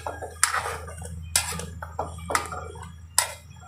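A utensil clinks against a cooking pot as squash simmering in coconut milk is stirred, giving four sharp metallic taps spaced about a second apart over soft bubbling.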